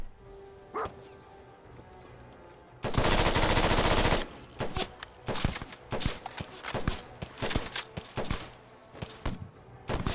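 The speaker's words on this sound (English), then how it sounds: "Through a hail of gunfire, I shall venture forth and quickly collect ammunition first, then run forth and just shoot up close range." Gunfire in the video game Fallout 4: a solid burst of automatic fire lasting over a second, followed by a scattered run of sharp single and paired shots. Faint game sounds sit underneath.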